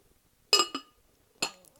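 Lid of a mercury-effect glass candle jar clinking, two quick bright taps followed a moment later by a third, crisp and close in an otherwise quiet room.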